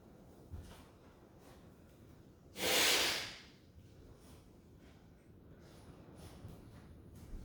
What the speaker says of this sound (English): Just need to blow my nose, I'm sorry.